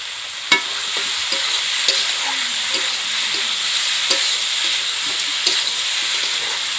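Potato pieces frying in oil for a simple chicken curry, a steady loud sizzle with occasional sharp spoon knocks and scrapes against the pan.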